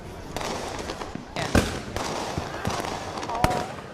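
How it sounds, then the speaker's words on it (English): Independence Day fireworks burst in a string of sharp pops and crackles, with a few louder bangs standing out. They sound somewhat distant, over a steady rumbling background with faint voices. "Fireworks!"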